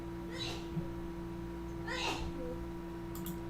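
Two short sneezes, one near the start and a louder one around two seconds in, heard faintly at a distance over a steady low hum.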